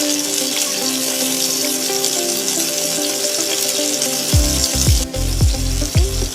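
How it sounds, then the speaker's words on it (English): Finely chopped onions sauté in a pan for chicken marqoob, giving a steady close sizzle and frying hiss under background music. "Add finely chopped onions and sauté them well until they turn soft and light golden."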